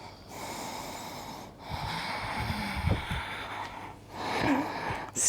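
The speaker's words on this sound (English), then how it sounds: "Steady your breath, hear yourself breathing." A person breathes heavily through the nose during an energetic rocket yoga flow, with several snorting, wheezy inhales and exhales spread across a few seconds, close and fairly quiet, with no talking.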